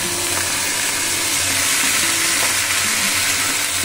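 Okra frying in a pan, with whisked curd just added and stirred through; a loud, continuous, close sizzle and hiss fills the space, with low scraping of the spoon underneath and no talking.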